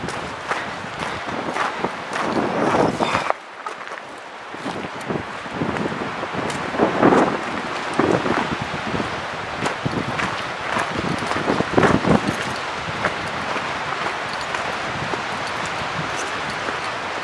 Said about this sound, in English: Actually, this wind is really quite dramatic, really quite nice.